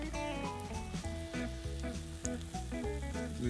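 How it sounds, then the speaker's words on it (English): A sandwich fries in hot oil in a skillet, giving a steady, close sizzle that carries on without a break over a few seconds, with no voices. "Okay, sandwich is in. You continue to fry it."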